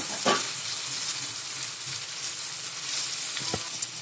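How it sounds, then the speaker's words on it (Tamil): Tomatoes and curry leaves sautéing in a pan of onions for a mushroom gravy, giving a steady close sizzle with a couple of brief stirring clicks and no talk. "இது எல்லாத்தையும் நல்லா வதக்கிக்கோங்க"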